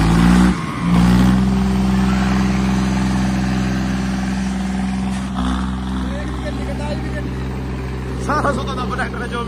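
Tractor engines of a John Deere 5210 and a Swaraj run steadily during a tochan tug-of-war contest, a loud continuous low diesel drone throughout, with people talking over it.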